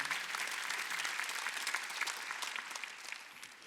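A church congregation at a Wednesday worship service applauds together, a steady, moderately distant clatter of many hands that slowly fades toward the end.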